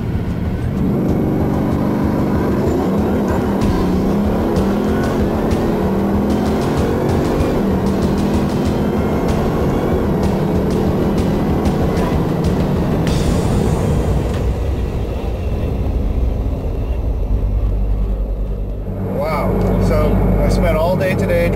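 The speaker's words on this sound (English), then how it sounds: "First time in the Bugatti Veyron Supersport, and I'm about to put the throttle all the way down for the first time." A Bugatti Veyron Super Sport at full throttle gives a loud, sustained engine roar that builds steadily from inside the car, with a voice heard over it and a brief dip near the end.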